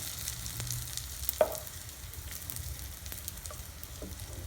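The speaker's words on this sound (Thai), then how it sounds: "เกี๊ยวที่เราปั้นเอาไว้ นี่ใส่ลงไปนะคะ ไม่ต้องทอดนานเพราะเกี๊ยวมันสุกง่ายนะคะ" Homemade wontons frying in a pan of oil give a steady, moderate sizzle, with one brief clink partway through and no voices.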